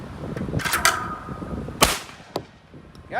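Shotgun fired at clay targets outdoors: a few sharp, loud reports with short echoing tails, spaced apart, with faint background noise between shots.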